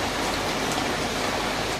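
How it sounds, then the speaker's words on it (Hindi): Heavy morning rain pours down steadily, a dense, even hiss of drops on surfaces that fills the scene at close range without a break. "बारिश बहुत ज़ोर से हो रही है"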